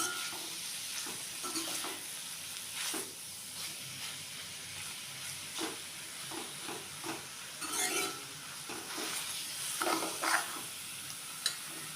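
Snake gourd and grated coconut fry in a pan while a utensil stirs them in repeated scraping strokes over a steady sizzle, close by, with no one speaking.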